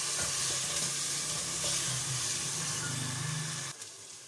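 Taro root (arvi) with ginger paste frying in a pan for a spiced masala dish, a loud continuous sizzle with stirring scrapes that cuts off abruptly near the end.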